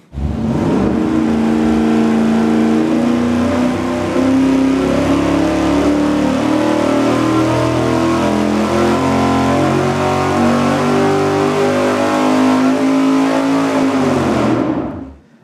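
An engine roars at sustained high revs on a dyno for about fifteen seconds, loud and steady, pitch climbing slowly before it cuts off abruptly.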